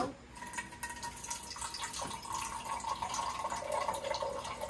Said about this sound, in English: Then you put water here.